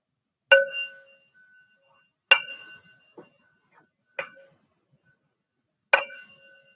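Singing bowl struck four separate times during a group sound-healing meditation, each strike a bright ringing tone that decays over about a second, with a faint extra tap between the second and third strikes and no talk.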